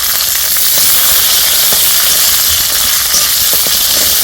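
Black cumin, dried red chillies, garlic and green chillies frying in hot oil for a fish curry, a loud steady sizzle and hiss throughout, alone without talk.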